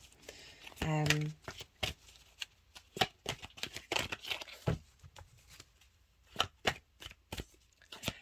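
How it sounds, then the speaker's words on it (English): Tarot cards are shuffled by hand before a numerology card is drawn, giving a quick riffle burst followed by scattered soft slaps, taps and papery flicks at close range. "I'm just going to pull a numerology card for you, Cancer, to see."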